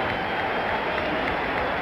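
Crowd applause fills a boxing arena at the Muhammad Ali vs Jerry Quarry fight, a steady dense wash of clapping and cheering that holds at an even level throughout without breaks.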